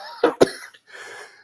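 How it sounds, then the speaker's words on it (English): A man gives two sharp, close coughs in quick succession, followed by a faint breathy tail, with no talking. "it's got me coughing. It's got me coughing bad"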